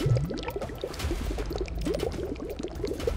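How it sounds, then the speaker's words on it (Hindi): Water flowing and trickling in a dark underground passage, a steady gurgling stream of small bubbling drips and splashes, fairly close and continuous with no voices. "ये शायद पानी बहने की आवाज थी।"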